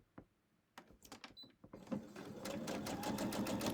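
A sewing machine stitches a quilted sunflower coaster strip at an eighth-inch seam allowance. A few clicks come first, then the motor ramps up into a steady, rapid, close stitching whir.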